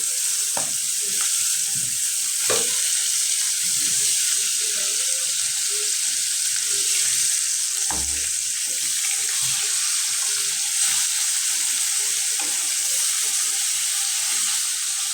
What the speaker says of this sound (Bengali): কড়াইয়ে তেল দিয়ে দিলাম দিয়ে দিলাম মাছ